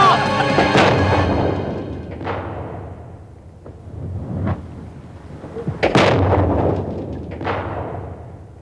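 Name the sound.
bomb explosions in a drama sound effect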